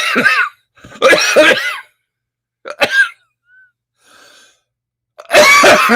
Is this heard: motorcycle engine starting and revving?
no